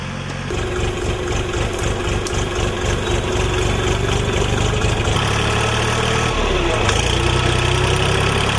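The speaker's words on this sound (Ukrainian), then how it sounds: "Олексій Титеренко приїхав на тракторі і витягував колоди з води." A heavy tractor engine idles and rumbles steadily throughout, loud and close, while pulling logs from a river, its low throb shifting slightly partway through.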